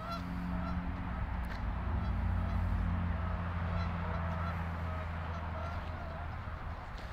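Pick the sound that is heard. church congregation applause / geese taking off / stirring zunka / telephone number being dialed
geese taking off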